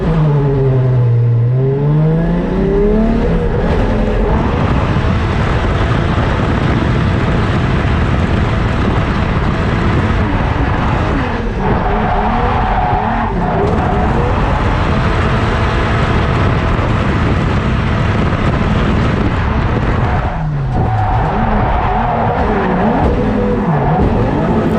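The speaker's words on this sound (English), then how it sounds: "And right there, axle number 2 just snapped." A budget 2JZ-engined drift car roars hard at a drift event, its engine revving as the tyres skid and screech loudly over the full length.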